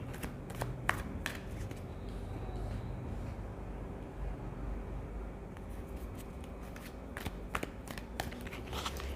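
A tarot card deck being shuffled, close and soft, with repeated riffling flutters and snaps of cards over a low room hum and no talk.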